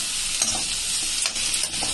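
Boiled shredded cabbage with turmeric being mixed in a pan, a continuous close sizzle with a few scraping stirs and no talking.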